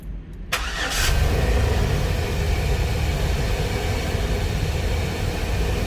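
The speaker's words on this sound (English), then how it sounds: "Now I'm going to start the vehicle." A car with a random cylinder misfire cranks and fires up, then settles into a loud, steady idle with a rough, uneven low rumble.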